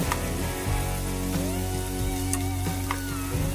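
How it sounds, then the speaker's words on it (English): Beef pieces coated in blackened seasonings sear in hot oil in a pan, giving a loud, steady sizzle with scattered pops and light clatter from turning the meat. "make sure each piece is touching that hot oil, searing those blackened seasonings, and getting a nice finish on the beef"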